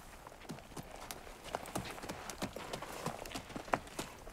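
Horse hooves clip-clop steadily on hard ground in Spain, a brisk regular rhythm of fairly close, crisp strikes with a faint background hiss and no talk over them.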